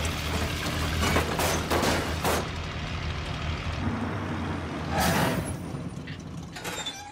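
A bus pulls up in a cartoon scene, its engine rumbling low and steady under bursts of hissing and clattering, with a sharp air-brake hiss near the end.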